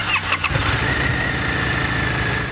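A Harley-Davidson V-Rod VRSCR Street Rod motorcycle engine cranks with a few quick clicks, then fires up and settles into a loud, steady, close idle with no talking.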